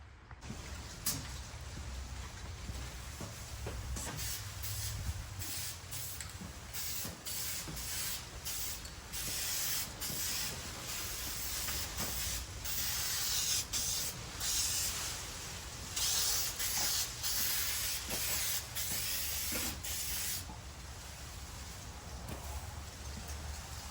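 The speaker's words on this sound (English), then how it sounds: "we're going to get into the gloss black top coat from SEM" SEM gloss black aerosol top coat sprayed onto car window trim, a close steady hiss in repeated passes with short pauses between bursts, no talking.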